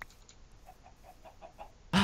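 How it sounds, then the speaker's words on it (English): Chickens in Minecraft make a string of short, soft, evenly spaced clucks against quiet game ambience, ending in a sudden loud burst of noise. "Wow, there are so many chickens over here."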